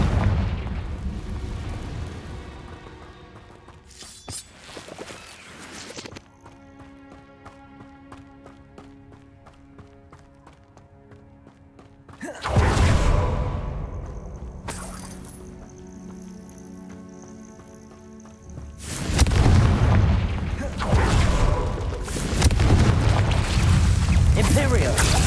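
Confringo fire spells burst during a Hogwarts Legacy battle, with loud booming blasts and rumbling hits between quieter stretches of combat effects and shouted voices.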